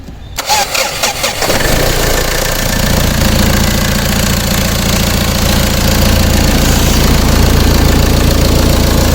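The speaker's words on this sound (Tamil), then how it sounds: "வண்டியோட இன்ஜின் சவுண்டை பற்றி நான் கேட்போம்" An old low-budget car's engine starts with a few sputtering turns, then settles into a loud, steady, slightly rough idle with a low rumble throughout.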